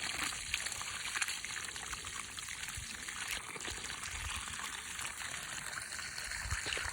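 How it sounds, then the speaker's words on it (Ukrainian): Water poured from a homemade tap under grape seedlings, about 20–30 litres per bush, gives a steady, continuous trickling and splashing that holds near and even throughout with no talk. "Ну, десь так приблизно по літрів 20-30 води під кущики проливаю і хай собі переживається."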